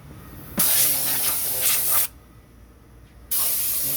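Gasoline sprayed from a nozzle onto a car engine during cleaning, a loud close hissing burst of about one and a half seconds, a quieter pause, then a second spray starting near the end.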